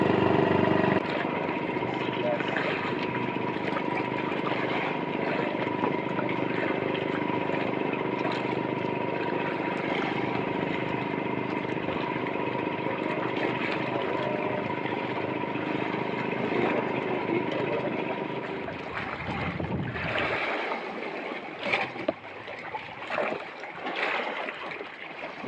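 A small boat engine drones steadily and fairly loudly for most of the clip, then cuts away near the end, leaving quieter, irregular noises.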